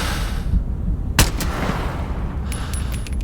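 Gunfire in the video game Into the Radius 2: one sharp, loud shot cracks out of a low ambient rumble, followed a little later by a short run of quicker, fainter reports.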